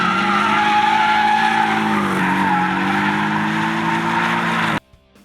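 A Porsche Cayman GTS on a race track, its engine droning loud and steady with a shifting pitch, tires squealing as it corners, before the sound cuts off abruptly near the end.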